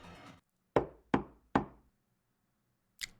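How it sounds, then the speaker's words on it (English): Three firm, evenly spaced knocks land on a door in Steins;Gate, crisp and close against silence, followed by a brief faint sound after a pause. "A knock sounds from the door."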